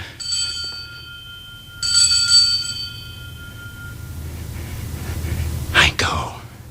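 A small bell rings in two bright clusters of tones that fade slowly, followed by a soft breathy whisper near the end.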